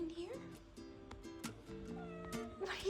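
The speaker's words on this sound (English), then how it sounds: "Are you meowing at me?" A young female cat meows in a series of short, clear cries close by, with someone talking softly to her in between.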